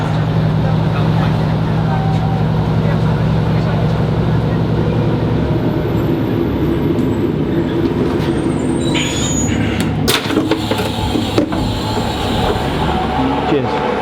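Train running between Manchester and Starbeck, heard from inside a carriage as a steady rumble of wheels on rail with brief squeals and clatters near the end, voices faintly underneath.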